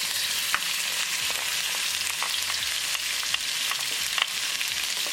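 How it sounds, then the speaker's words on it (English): Garlic sizzles in a tablespoon of hot olive oil while a utensil stirs it now and then, a steady, close, bright crackle broken by occasional scrapes and clicks, with no voices. "Add olive oil, 1 tablespoon olive oil. As the oil starts to heat up, add garlic."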